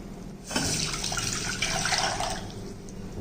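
Water from a cup poured steadily into a cooking pot for ragi kali, a continuous close splashing pour that starts abruptly and runs to the end without talk.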